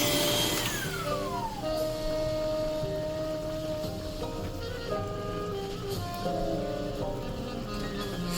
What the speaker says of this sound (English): How often do you see somebody vacuuming the stove